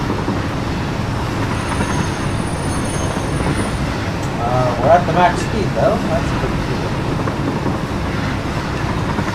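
A train in a video game runs at its 200 km/h maximum speed, a steady rumbling rail noise with faint clicking that carries on throughout while someone talks over it.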